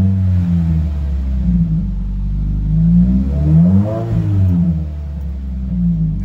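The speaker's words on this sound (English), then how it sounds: "I'm gonna give it a quick little rev, see if we can hear the bypass valve." A Subaru WRX engine idles with a deep, close rumble, then rises in a quick rev and settles back down. No bypass valve vent stands out clearly.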